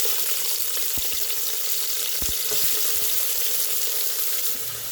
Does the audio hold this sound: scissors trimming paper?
no